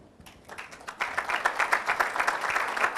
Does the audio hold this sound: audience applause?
yes